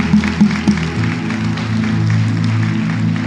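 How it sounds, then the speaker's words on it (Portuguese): A church congregation applauds, scattered claps swelling into sustained clapping under a droning musical backdrop, moderately loud and roomy. "Dê um aplauso por isso"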